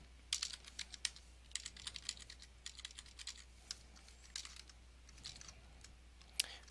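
Typing on a computer keyboard while setting up Samba users on a SUSE system, in irregular bursts of light clicky keystrokes at close range with short pauses between runs and no talking.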